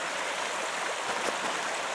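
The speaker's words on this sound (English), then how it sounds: "So I've been hiking along this flowing creek here" A flowing creek along a state forest hiking trail rushes and babbles steadily nearby, a constant broadband wash of water with no voices.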